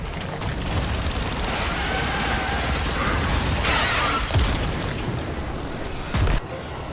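Rapid gunfire from a Kitgun in the video game Warframe, a dense stream of shots blending into a continuous burst, with a few louder booms and mechanical clatter in the mix.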